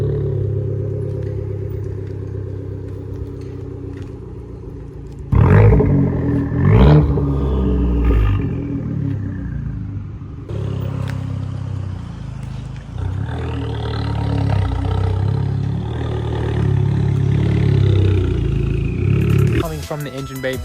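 Turbocharged Abarth engine with an intake modification revving hard in bursts, a loud throaty roar rising and falling under ongoing speech, with turbo whoosh and rumble up close.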